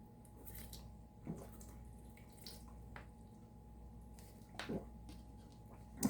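Water drains away in faint, sparse drips and small splashes, scattered irregularly over a quiet background.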